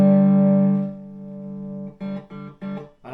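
A 30-watt hand-wired 1x12 valve guitar combo amplifier at full gain rings out with a loud, sustained tone that fades, followed by several short, punchy chords in quick succession.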